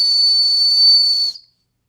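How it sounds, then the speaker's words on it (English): A survival whistle built into the handle of a fixed-blade EDC knife gives one steady, shrill, piercing blast close up, held for over a second before cutting off abruptly into silence. "got a freaking survival whistle"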